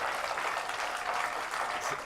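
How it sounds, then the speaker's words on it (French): Applause from a conference audience at the closing session of the 18th MutRé meetings, steady and dense for about two seconds at moderate level, with no clear voices over it. "Hein, Benoît, on peut l'applaudir parce qu'il a quand même animé avec brio"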